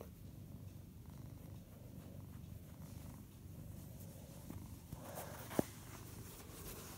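A cat purrs steadily at low volume while being played with, a soft continuous rumble with a faint tap near the end and no talking.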